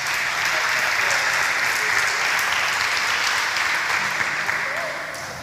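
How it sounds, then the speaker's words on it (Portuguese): Loud, sustained congregational applause at a church service, dense clapping from many hands that holds steady and begins to taper near the end. "Vamos dar uma salva de palmas"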